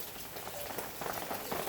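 Steady rain falling outdoors, a continuous dense hiss of drops on a surface that swells slightly toward the end, with no voices.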